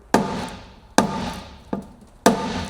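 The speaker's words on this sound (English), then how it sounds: "I just give them a little tap with the hammer." Four sharp hammer taps on corroded bolts on a navy boat being torn down, spaced unevenly, each a crisp close strike that dies away quickly.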